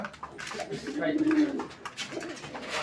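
Gorra pigeons cooing at a pigeon fair, soft low throaty coos swelling and fading near the listener, with faint background voices and bustle.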